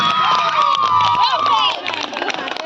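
A crowd cheers and shouts at an outdoor Magh Bihu gathering in Dhemaji, Assam, a dense, loud burst of voices and whoops that fades a little after about two seconds.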